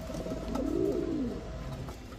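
A single soft, low coo from a female Babra pigeon, rising and falling over a quiet background hum.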